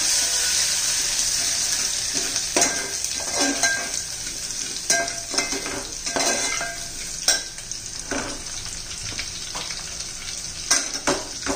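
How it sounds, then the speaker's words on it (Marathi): Ginger and garlic sizzle in hot oil after cumin and mustard seeds have crackled, for pav bhaji, as a spoon stirs and scrapes the pan in uneven strokes, close and continuous. "हे पहा, चांगलं आलं लसूणचं परतून घ्यायचं चांगलं आपल्याला."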